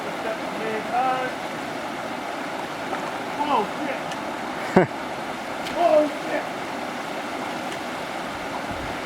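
Beale Falls, a waterfall, gives off a steady broadband rush of flowing water, loud and constant beneath brief startled exclamations from a person close by.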